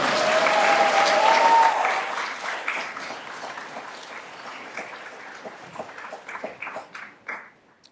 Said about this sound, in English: Y'all need to clap now.